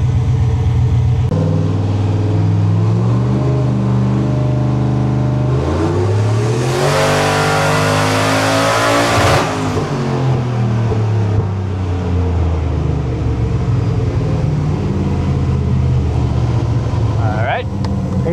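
An 800 hp Silverado with a Holley Terminator X makes a boosted dyno run, its engine droning loudly, climbing steadily to a roaring, whining peak, then winding back down, close and continuous with voices heard faintly over it.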